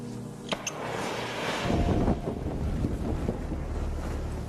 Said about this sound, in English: We did get an instant burst of flame there, but it didn't last very long.